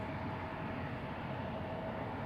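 An Alaska Airlines jet roars down runway 16 left at Seattle on takeoff, a steady, broad, distant engine rumble with no voices over it.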